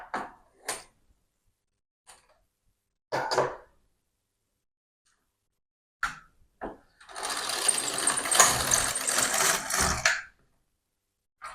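Domestic knitting machine casting on 60 stitches with waste yarn: a few short clacks and slides of the carriage, then one longer loud sweeping pass across the needle bed, close and without talk.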